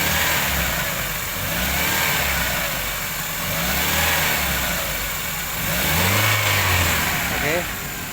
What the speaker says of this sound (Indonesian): Ini kondisi posisi mesin nyala.